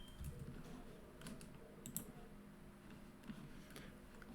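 Soft, faint keyboard typing while entering CSS code, scattered quiet keystrokes in a loose irregular rhythm, a few slightly sharper clicks over a low background hum.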